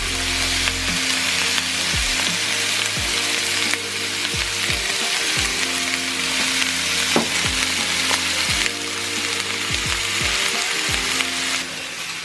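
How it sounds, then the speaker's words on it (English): A big chunk of pork sears in a hot pan with a loud, steady sizzle, broken by irregular clicks and scrapes of a utensil moving the meat. "Alright, here's our pork. I'm just gonna sear it."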